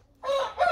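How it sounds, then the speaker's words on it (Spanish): A rooster crows once nearby, a short loud harmonic call that rises and then breaks into a second strained burst, with no talking. "Oigan cómo canta el gallo."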